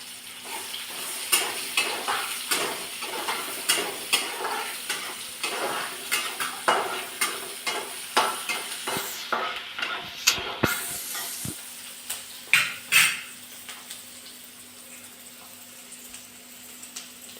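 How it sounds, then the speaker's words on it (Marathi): Chopped onion frying in a pan with a spoon stirring and scraping, giving repeated knocks against the metal over a steady sizzle throughout. "कांदा लाल होईपर्यंत भाजी द्यायचा"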